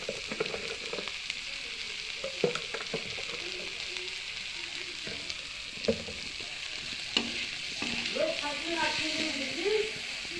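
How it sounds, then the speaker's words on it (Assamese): Cabbage frying in a pan with turmeric on low gas, a steady close sizzle with occasional stirring scrapes and clinks throughout. "গেছটো কমত দিওঁ, 5 মিনিটমান ভাজি ল'লোঁ।"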